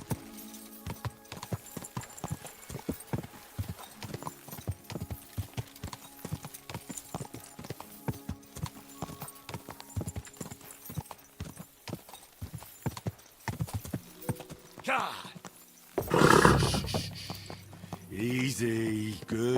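Rhythmic hoofbeats clip-clop steadily at a fast pace, then a horse whinnies loudly near the end, in the video game Kingdom Come: Deliverance 2.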